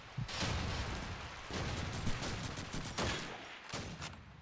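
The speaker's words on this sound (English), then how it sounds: "The way these players shoot the M1, it's almost like that thing is an MG. They fire it so fast." Rapid M1 rifle fire from Call of Duty 2 during a competitive online match, with sharp shots bunched into quick volleys, loud and close, over a continuous din of battle.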